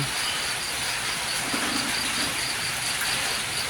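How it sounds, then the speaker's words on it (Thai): Steady, even hiss of rain falling throughout, continuous and unbroken, over an elephant village in Thailand in the morning; no voices. "ฝนตกทั้งคืน"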